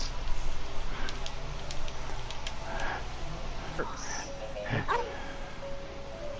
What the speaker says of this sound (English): it's Duran disguised himself as a dog